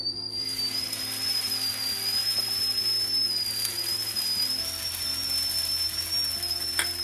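Stuffed sooji (semolina) mixture frying in a little oil on a hot tawa, a steady close sizzle with a thin high whistle-like hiss running throughout, no talking.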